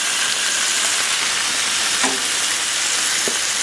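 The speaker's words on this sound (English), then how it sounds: "And right now you're just browning the chicken." Chicken browning in a pan for lemon garlic chicken pasta, giving a steady, loud sizzle with dense crackle throughout and a couple of faint clinks, no voices.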